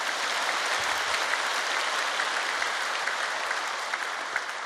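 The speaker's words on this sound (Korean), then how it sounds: "박수로 환영하십니다" A church congregation applauds in welcome during a worship service, a steady, dense wash of clapping from many hands that stays level and fairly loud throughout, with no voices rising above it.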